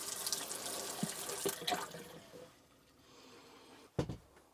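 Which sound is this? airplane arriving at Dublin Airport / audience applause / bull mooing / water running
water running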